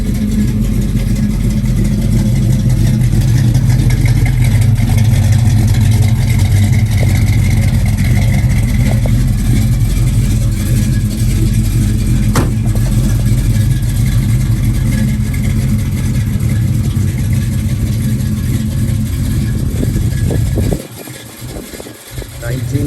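A triple-black 1972 Chevrolet Chevelle engine runs with a steady, loud low rumble that carries on for about twenty seconds, then drops off sharply near the end.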